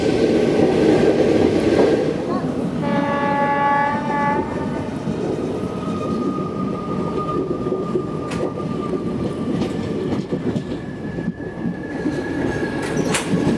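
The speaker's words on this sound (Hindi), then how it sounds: "क्या प्यारा लोकोमोटिव यार।" The Rajya Rani Express runs steadily on the Nanded to Mumbai line, heard from on board as a constant rumble with a horn blast and squealing wheels, no talking.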